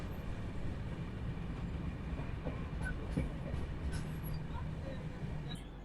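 The Jammu Tawi Express pulls out of Andal station, wheels rolling steadily on the rails with a continuous rumble and faint rhythmic clicks throughout.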